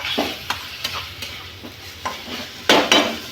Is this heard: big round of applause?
no